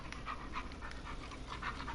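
A rescue dog pants rapidly and steadily nearby, giving soft, rhythmic breathy puffs that are fairly quiet over a low background hum.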